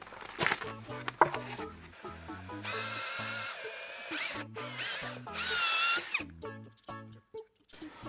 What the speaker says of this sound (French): J'arrête de percer avant la fin pour éviter l'arrachement.